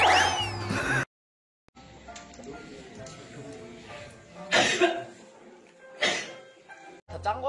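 Short sharp coughs from K-pop idols on a variety show burst out a few times among chatter and laughter, each one a brief loud hack.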